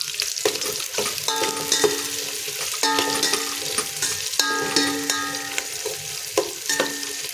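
Onions and green chillies frying in oil are stirred with a metal spoon, giving repeated ringing scrapes and clinks against the pan over a steady sizzle, close and fairly loud, with no speech.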